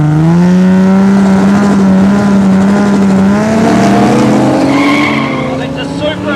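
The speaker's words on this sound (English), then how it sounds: "We've got another Supra now up against the sweet 69 Mustang." A Toyota Supra and a 1969 Mustang drag race on a no-prep airstrip, loud engines rising in pitch with tire squeal, near and dominant, while a voice talks over it.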